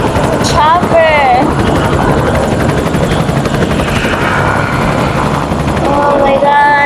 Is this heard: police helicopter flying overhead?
yes